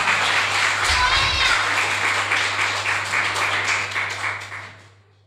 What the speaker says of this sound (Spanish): Un aplauso para Elian ahí, que se, que se ha esforzado